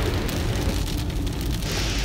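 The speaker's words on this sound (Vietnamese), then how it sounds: "mưa kiểu này ướt áo ướt quần hết luôn rồi" Rain falls outside on a cold afternoon as a dense, steady hiss with a low rumbling wash underneath, continuous and fairly close throughout.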